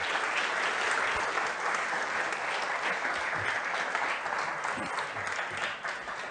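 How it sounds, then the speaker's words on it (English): A crowd at a Sunday evening mission gathering breaks into steady, sustained applause to welcome a guest, a dense wash of clapping that holds at an even level throughout with no voices over it. "giving Jonny Thiessen a round of applause as he comes to join me here this evening"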